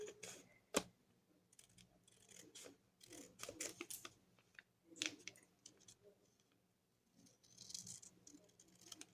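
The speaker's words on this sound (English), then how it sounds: "Now we have cut off our template." Scissors snip through a paper bookmark template at close range, giving quiet, irregular crisp cuts and small paper rustles with brief pauses between snips.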